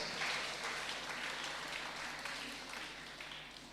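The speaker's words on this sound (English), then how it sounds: "I think all the organizers deserve a big applause." Applause from the delegates in a hall at a two-day engineering college conference, a steady dense wash of many hands clapping at moderate distance, slowly fading over the few seconds.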